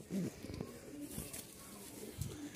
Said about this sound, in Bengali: এটা হচ্ছে খুব ভালো উড়া কবুতর একটা